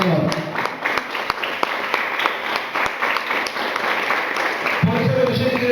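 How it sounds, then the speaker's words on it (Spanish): Congregation clapping during a Spanish-language church sermon about the resurrection, a steady mass of applause filling the room, with voices mixed in and a louder swell near the end. "Así quieren el aplauso al Señor."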